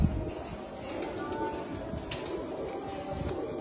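Pigeon on a rooftop cooing softly in low, continuous murmurs over a steady outdoor background, with no clear talking.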